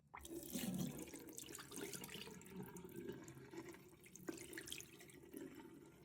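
Murky water from washing makeup brushes is poured out, splashing and trickling steadily into a sink for several seconds, fairly close and with no talking.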